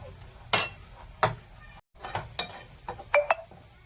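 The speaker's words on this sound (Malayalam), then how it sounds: "വെള്ളം തിളച്ച് കഴിഞ്ഞ് അതിലേക്ക് ഈ റവ കുറേശ്ശെ ഇട്ട് നല്ലോണം വഴറ്റിയെടുക്കുക" Semolina being stirred into boiling water in a pan, a run of sharp scraping and stirring strokes at uneven intervals with a soft bubbling bed beneath, close and alone.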